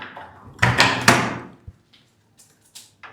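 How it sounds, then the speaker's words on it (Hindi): A door in a large old house is pulled open with loud creaking and scraping, followed by a dull knock and a few faint clicks. "ये क्या है, खोल के देखें दरवाज़ा।"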